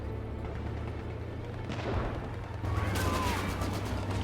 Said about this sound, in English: that's my artillery basically missing everything, the Panzerwerfers